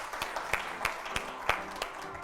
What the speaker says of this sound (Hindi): ये तालियों के हकदार हैं भाई